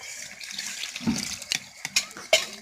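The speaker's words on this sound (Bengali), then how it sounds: "কষা হয়েছে তখন জল দিয়ে দেব।" Water poured into a pot of browned, spiced meat as it cooks, a short splashing gush followed by a few sharp clatters and drips, close by with faint voices in the background.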